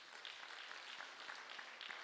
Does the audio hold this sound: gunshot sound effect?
no